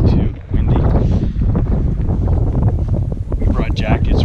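Strong gusting wind on a chilly Mt Charleston hiking trail in Nevada's Spring Mountains, buffeting the microphone with roaring, uneven rushes, and someone speaking under the noise.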